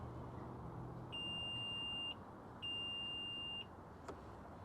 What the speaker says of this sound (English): hold the button down until you hear the beeps